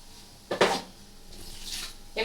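Water poured into ground mustard seed with salt while making a mustard paste for a village-style Bengali boal fish curry: a short splashing pour, then a quieter second trickle, close and brief.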